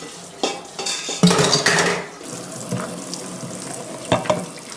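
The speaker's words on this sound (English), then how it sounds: "I've finished cleaning out the Instant Pot from the salmon." Clattering of a metal Instant Pot insert and utensils being washed at a kitchen sink after cooking salmon, with running tap water, scraping and bumps in irregular bursts, fairly close and alone.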